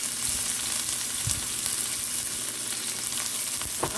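Green onions and a sweet Vidalia onion sizzle steadily in a hot pan for callaloo and saltfish, a dense continuous frying hiss with a few soft stirring bumps and no talking.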